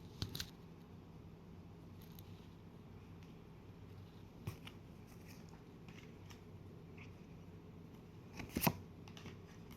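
Tarot cards being shuffled by hand at close range, soft and quiet, with a sharp riffle at the start and a louder flurry of card slaps near the end.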